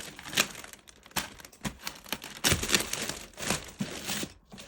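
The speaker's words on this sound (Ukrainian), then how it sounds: "Зараз розріжемо цей скотч" Sharp crinkling and ripping bursts come up close in irregular spurts, like packing tape being sliced and torn from a cardboard parcel, with short quiet gaps between.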